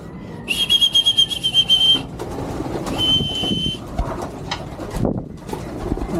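Young pigeons coo softly in a low, continuous murmur at a 7 a.m. release, joined by two bursts of bright, steady whistling early on; no voices.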